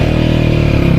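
A motorbike engine drones steadily while the bike is ridden, a loud, close, even hum with a constant low throb and no talking.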